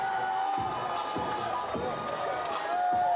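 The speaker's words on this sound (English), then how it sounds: "Anthony Johnson in front of his hometown crowd picks up his second win." A hometown crowd at a Fury fight event cheers and shouts loudly after a prelim win, a dense sustained roar with scattered whistles and shrill yells throughout.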